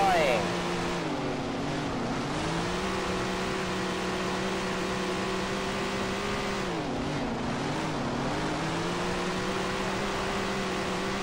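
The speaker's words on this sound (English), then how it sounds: "Listen to those engines as we get ready to go." Big block modified race car engines from the Tony Stewart's All American Racing video game at Diamond Grove drone together in a loud, continuous roar. The pitch dips and rises slightly as the cars get ready to go.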